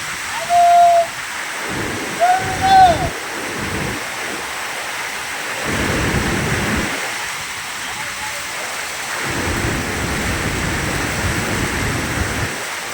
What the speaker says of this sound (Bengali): বৃষ্টিটা হচ্ছে দেখো কীভাবে।